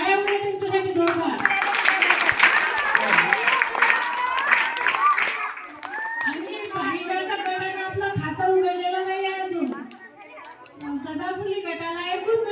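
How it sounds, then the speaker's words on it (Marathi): Audience clapping at a quiz competition after team scores are announced, a scattered burst of applause and crowd chatter early on, giving way to voices talking. "टाळ्या वगैरे तुमच्यासाठी दोघा"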